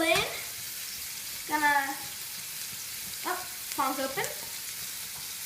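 Scallops sizzle in a pan with lemon squeezed over them, a constant soft frying hiss underneath intermittent speech from a nearby voice.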